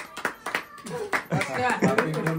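A small child claps her hands at a family baby celebration, a string of sharp, uneven claps close to the listener, with adults and someone talking over and between them.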